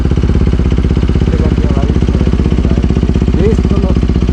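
Close and loud, a Bajaj Pulsar RS200 fitted with a Yoshimura exhaust idles with a steady, fast, throbbing exhaust pulse that stays even from start to finish.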